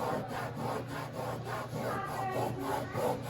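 Glue adhesive being scraped off a boat during a winter project, a steady rasping scrape with repeated back-and-forth strokes, close and fairly quiet, no voices.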